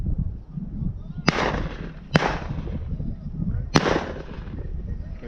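Three sharp 20-gauge shotgun shots fired at flushed pheasants during a small-game hunt, spaced irregularly and loud against steady outdoor background noise, each with a brief decaying tail.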